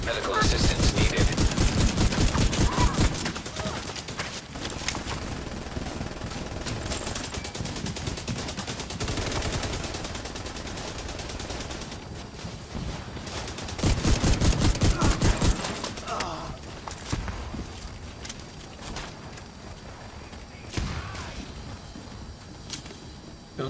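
Sustained gunfire in The Division 2 video game, with stretches of rapid automatic bursts and scattered single shots, louder volleys swelling around the start and middle, and faint voices mixed in.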